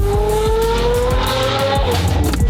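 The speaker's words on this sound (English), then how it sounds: "I dump the clutch." Porsche launching hard on a clutch dump, engine revving loudly with rhythmic pulses as the tires squeal and skid, close and intense throughout.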